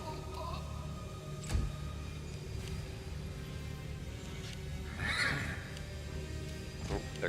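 Horse neighing in the fantasy role-playing game Pathfinder: Wrath of the Righteous, brief faint whinnies over low battle ambience with a couple of soft thuds, no talk.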